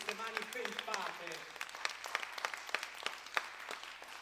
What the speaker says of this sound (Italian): Facciamo un applauso un po' più forte che possiamo farlo.